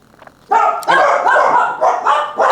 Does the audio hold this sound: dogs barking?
yes